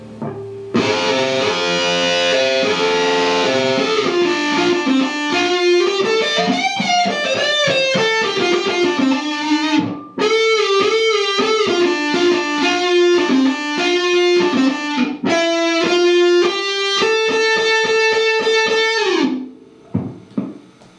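A distorted electric guitar plays a loud, sustained solo with bends and fast runs, pausing briefly twice before a final held note fades out.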